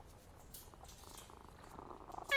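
A cat in the Sherlock Holmes Vs Jack The Ripper video game purrs softly and steadily, faint and close, with a brief brighter sound at the very end.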